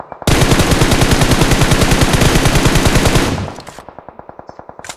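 Rapid automatic gunfire in the battle royale game BGMI, a loud steady stream of shots that stops abruptly, followed by a string of quieter, evenly spaced reports.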